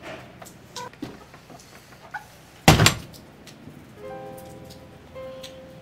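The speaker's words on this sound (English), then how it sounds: "Why do these children like to bang doors?" A door is banged shut inside a house: one sharp, loud slam stands out midway against a quiet room with faint scattered knocks and household noise, and no one speaks.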